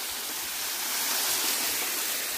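Waterfall water rushing in a steady, loud, broadband roar, continuous and close without pauses.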